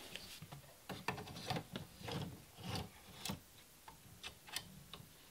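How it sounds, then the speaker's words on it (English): An embroidery hoop is fitted back into an embroidery machine, giving a run of close, light clicks and knocks with soft rubbing in between, quiet and irregular, with no talking. "Now we install it back into the machine and move on to the next step."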